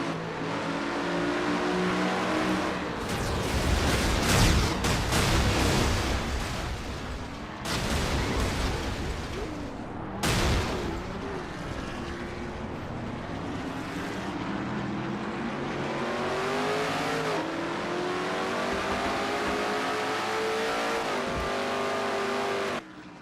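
Stock car race engines roar continuously in a racing video game set at the Food City 500, with loud sustained revving and pitch shifts as cars accelerate, sometimes broken by sudden bursts and cuts.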